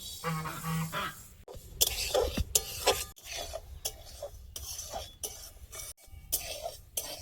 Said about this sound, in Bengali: ডালিয়াটাও একটু শুকনো খোলায় নেড়ে নেব